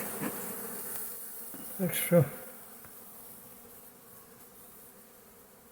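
Bees hum in a soft, steady drone throughout, with a brief louder buzz passing close by midway and faint talk at the start.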